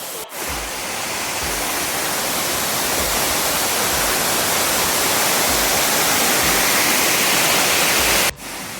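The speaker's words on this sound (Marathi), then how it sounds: "आणि हा खाली धबधबा आहे" A loud, steady roar of falling water fills the air without pause, a dense broadband rush heard up close at Kasmal Waterfall near Mumbai.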